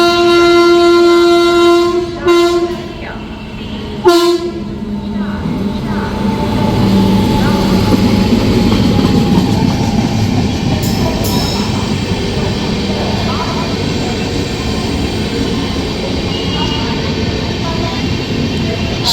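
A diverted express train runs on the rails with a steady rumble and clatter. A sustained horn sounds early on and a person talks over the noise.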